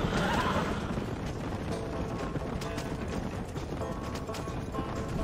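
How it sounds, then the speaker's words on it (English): A horse in Red Dead Redemption whinnies loudly at the start, followed by steady clip-clopping hooves and game ambience with no talk. "o cavalo ficou bem no meio da estrada"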